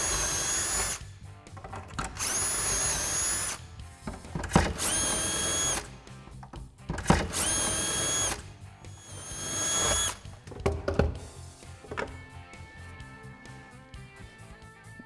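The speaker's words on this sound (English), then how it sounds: "Drop in the locating pin once again, and just keep on drilling." A power drill boring shelf pin holes whines in several separate bursts of a second or two each, with short pauses and clatter between them, close and loud.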